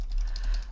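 Contact form details being typed on a computer keyboard, a quick run of soft, close key taps lasting under a second.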